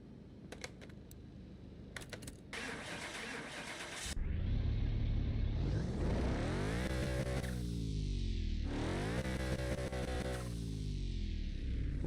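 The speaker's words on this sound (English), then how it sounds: "We'll see if this actually sounds like a modern M-powered Beamer." A BMW M car in Car Mechanic Simulator 2021 starts with a burst of ignition noise, then its engine revs up twice in long rising and falling sweeps, loud and close, after a stretch of keyboard typing.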